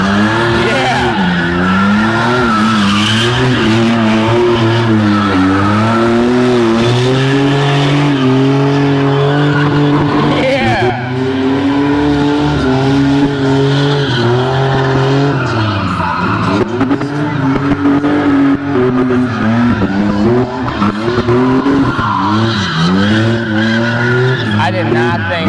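Tires squeal continuously as a car slides and skids under engine revving, the screech loud and close throughout with pitch wavering as the slide shifts; voices talk over it.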